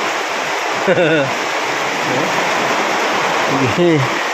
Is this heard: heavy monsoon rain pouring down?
yes